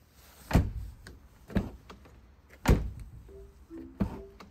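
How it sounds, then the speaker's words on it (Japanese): Doors on a Honda Freed Hybrid shut with several solid thunks, each close and distinct, spaced a second or two apart with quiet between, with faint small mechanical sounds near the end. "ドアを閉める音には、現代車らしい剛性感を感じます。"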